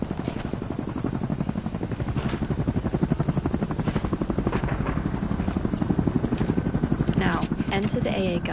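An enemy helicopter flies in the video game Hell Let Loose, its steady rotor chop pulsing loud and continuous throughout, with voices talking over it.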